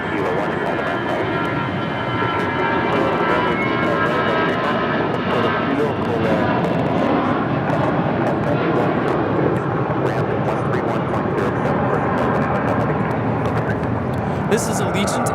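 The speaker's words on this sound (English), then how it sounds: "This is Allegiant Air 796 taking off to Bentonville, Arkansas on an A319" An Allegiant Air Airbus A319 departs from LAX bound for Bentonville, Arkansas, its engines giving a steady, broad roar that holds throughout, with a person talking over it.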